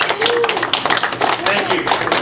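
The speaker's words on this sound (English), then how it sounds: "I would like to extend again just another round of applause for our speaker" Audience clapping at a community lecture, brisk and close with uneven individual claps, a voice talking over it.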